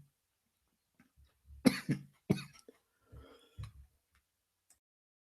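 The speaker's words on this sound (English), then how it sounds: "sorry about that. I had to cough." A few sharp, close coughs in quick succession, followed by quieter throat-clearing sounds, then near silence.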